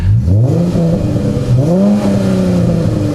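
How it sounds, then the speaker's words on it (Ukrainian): A Dodge Charger engine with an aftermarket exhaust revs loudly up and down in deep, rising growls, close by and dominating the scene. "Коли ми погазуємо, то він буде досить сильно гарчати."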